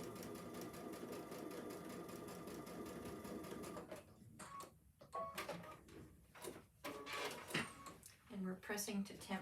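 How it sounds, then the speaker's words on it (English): A sewing machine runs in a steady, close mechanical whir while joining two placemat pieces, then gives way to short stop-start bursts and handling noises with a voice speaking in between. "We're going to go sew those two together."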